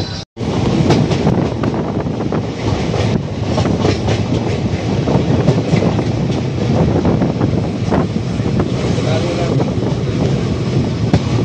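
The Balurghat Express on the Howrah to Malda Town line runs after pulling out of Bandel station, its loud steady rumble and clickety-clack of wheels heard from aboard with heavy wind buffeting the microphone.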